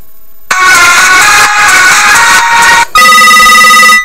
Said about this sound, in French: Vous avez des sonneries assez fortes.